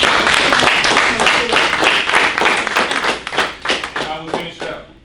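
A youth crowd applauds a guest speaker with loud, close clapping; distinct individual claps stand out, and voices cheer or talk over the clapping as it thins toward the end.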